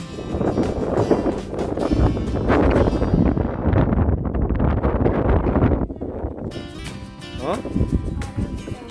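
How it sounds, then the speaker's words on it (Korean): Wind buffeting a microphone outdoors at a lakeside caravan campsite, a continuous loud low rumble and rush that drops briefly near the six-second mark, then resumes. "바람 때문에 안 돼."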